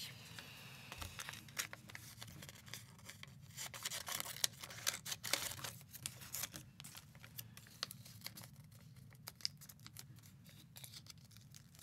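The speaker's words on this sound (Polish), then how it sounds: "Nożyczki." Scissors snip paper in a run of quick, close cuts during a craft session, faint crisp clicks with light paper rustling between them.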